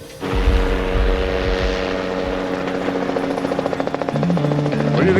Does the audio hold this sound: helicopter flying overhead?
yes